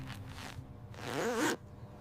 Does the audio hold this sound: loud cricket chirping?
no